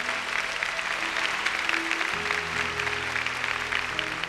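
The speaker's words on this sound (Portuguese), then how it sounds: "Vamos aplaudir para valer a palavra de nossa salvação" A large church congregation applauds steadily through the whole stretch, a dense, even wash of many hands clapping at a sustained loud level, while low held musical tones hum faintly underneath.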